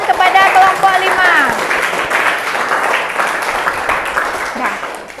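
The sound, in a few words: classroom applause for a student group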